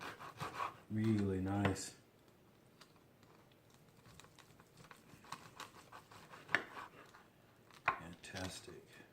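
A serrated knife saws through oven-baked pork ribs on a board: close, soft scraping and crunching strokes with a few sharper cuts, while someone speaks briefly near the start.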